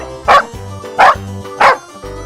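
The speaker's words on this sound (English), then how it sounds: "Dog." A dog barks three times in a slow, evenly spaced rhythm, each bark loud and close, set over soft background music.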